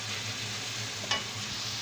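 Taco filling is stirred in a hot pan, giving a continuous close sizzle of frying with a short scrape of the spoon partway through and no talking.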